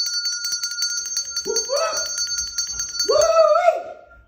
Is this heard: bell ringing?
yes